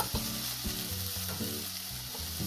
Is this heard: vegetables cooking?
yes